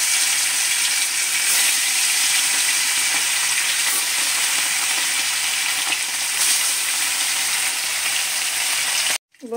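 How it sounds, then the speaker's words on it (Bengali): Koi fish frying in hot oil in a wok give a loud, steady broadband sizzle for the whole stretch. It cuts off abruptly near the end. "মাছটা আমার ভাজা হয়ে গেছে"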